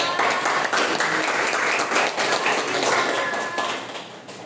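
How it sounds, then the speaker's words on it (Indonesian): Classroom students clapping for their teacher during a microteaching lesson on solar and lunar eclipses, a brisk group patter with distinct individual claps, easing off near the end. "beri tepuk tangan dong untuk Ibu"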